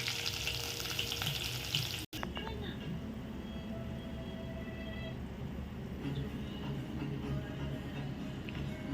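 Dried red chillies and curry leaves fry in hot oil for a tempering, giving a loud, continuous crackling sizzle. A brief cut breaks it near the start, then the frying carries on steadily.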